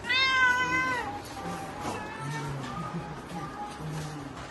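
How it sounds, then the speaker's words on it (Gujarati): A cat at a resort in Somnath gives one clear, close meow, then quieter background sounds follow. "ત્યાં બિલાડી બેઠી"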